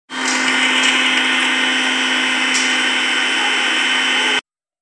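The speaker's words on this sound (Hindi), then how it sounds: "हम यहाँ पे पीस लेंगे मसाला मिक्सर में" A kitchen mixer grinder whirs loudly and steadily while grinding garlic and ginger into a spice paste, running for about four seconds before cutting off abruptly.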